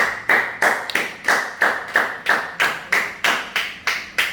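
A church congregation claps for Jesus during a sermon, a steady rhythmic beat of about twelve loud, evenly spaced claps in unison with no talking.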